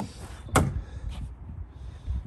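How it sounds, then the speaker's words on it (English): The soft-close door of a 2017 Range Rover Vogue Autobiography Overfinch V8 diesel shuts with one firm, close thud, followed by a fainter latching click about half a second later. "each door is soft close as well, as you can see there"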